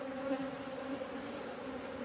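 Honey bees on the frames of a nucleus hive give a steady close buzzing hum with no pauses.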